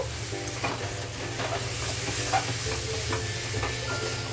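Biryani masala stirred and fried in a pan for paneer pulao, with a constant close sizzle and repeated soft scraping strokes of a spoon.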